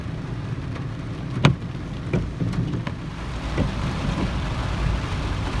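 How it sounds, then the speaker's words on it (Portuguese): Heavy rain pours steadily at night in São José da Tapera, a close, continuous hiss with a few sharper splashes and knocks breaking through. "É muita chuva"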